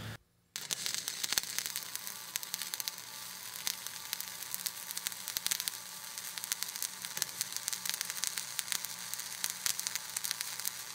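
Welding arc sizzling and crackling steadily while a bead is laid for a certification test, a close, continuous fry broken by frequent sharp pops, with no talk.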